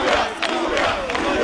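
Supporters at a TP Mazembe football training session make a dense crowd noise of clapping and cheering, loud and continuous with a few surging peaks.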